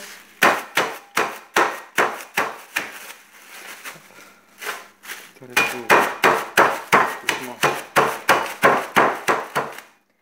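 Repeated heavy thuds pounding speculoos biscuits into crumbs, a fast regular series of strikes, then a short quieter pause before another rapid run of blows.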